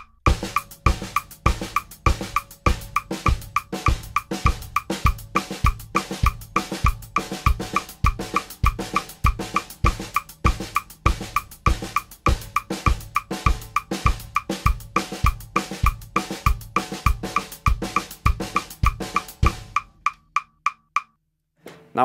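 Drum kit playing a steady sixteenth-note exercise with the bass drum on quarter notes, a dense, even stream of sharp hits with regular low thumps, played alone for about twenty seconds before stopping abruptly.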